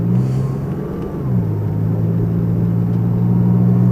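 A Porsche 911 driving, its engine holding a steady low drone with a brief dip and shift in pitch partway through, close and continuous with no talk.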